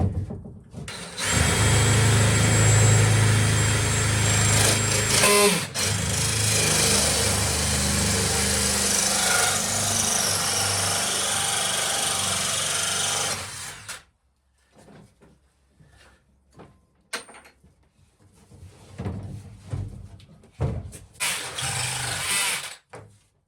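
A power drill whines loudly and steadily for several seconds as it bores through a thin narrowboat ceiling panel, then stops, leaving quieter handling noises and another brief burst.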